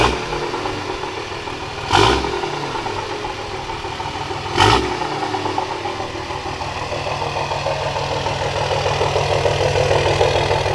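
A 2006 Cummins inline-six diesel truck with a six-speed manual idles in a steady, close rumble, with two brief louder surges about two and a half seconds apart.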